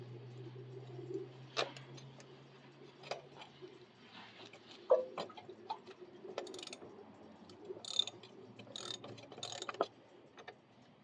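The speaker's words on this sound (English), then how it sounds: "So I'm going to loosen up this rear axle." A ratchet works on the rear axle of a Coleman B200RSV minibike, giving quiet, close, irregular metallic clicks and clanks with brief pauses between bursts.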